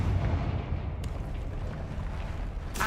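Confringo blasting spell exploding in Hogwarts Legacy, a deep rumbling boom with sharp bursts of impact and game effects, loud and close, with no voices heard.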